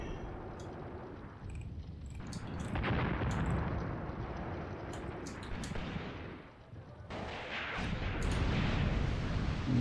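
In the WWII tactics game Graviteam Tactics: Mius Front, a machine gun fires among heavy booming battle noise, dense loud bursts rolling through with a brief lull in the middle before swelling again; no voices.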